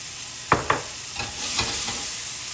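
Fish frying in olive oil in a pan, a steady soft sizzle with a few sharp clicks and light taps of a utensil against the pan.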